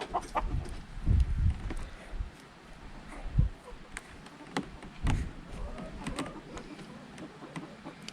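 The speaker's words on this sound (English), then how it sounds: "The chickens seem to be invading now." Chickens clucking near a greenhouse where trays of tomato seedlings are being started, giving scattered, uneven clucks and low thumps at close to moderate range over faint background noise.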